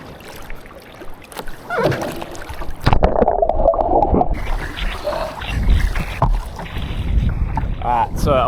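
A board or canoe paddled on open water during ocean race training with a bit of backwash, giving steady splashing and water movement under gusty wind buffeting the microphone.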